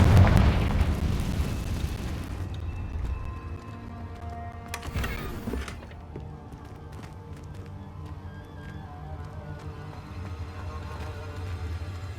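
A Confringo fire spell explodes in Hogwarts Legacy with a loud, deep boom that rumbles and fades over several seconds. A second crackling burst follows midway, over steady game background noise.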